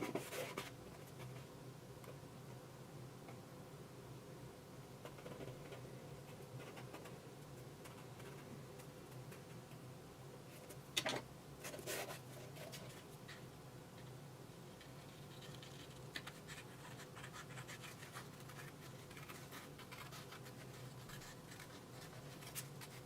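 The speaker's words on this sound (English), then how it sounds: "use the edge of that paper to trace out the other side" A pencil traces along a paper template's edge to mark a symmetrical outline for a handmade gizzard shad soft swimbait: a faint, steady scratching that runs for over twenty seconds, with one brief sharper tap partway through and no talk.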